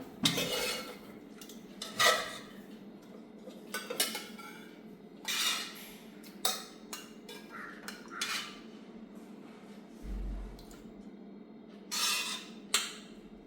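Boiled potatoes being moved from the pot into a mixer jar for homemade mayonnaise bring scattered metal spoon scrapes and clinks against cookware, a series of separate close knocks and scrapes with quiet gaps between them.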